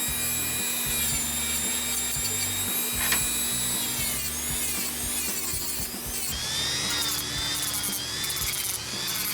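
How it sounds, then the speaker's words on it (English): A Dremel rotary tool grinds steadily on the engine cylinder of a Tomos Nitro 50 scooter, a continuous high whine with shifting pitch, close and alone with no talk. "I'm going to start by using a Dremel and cleaning up this bit of"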